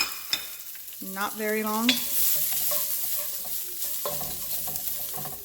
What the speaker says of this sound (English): Now I'm gonna do a quick saute of the cabbage again.